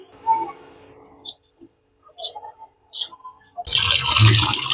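A potato is rinsed by hand in water: a few short splashes and drips, then a sustained rush of running water from a tap toward the end.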